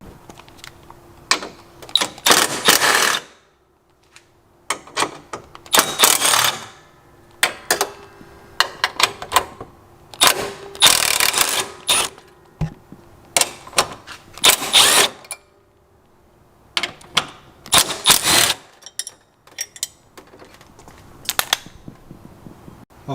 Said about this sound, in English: let's go ahead and loosen these 10mm bolts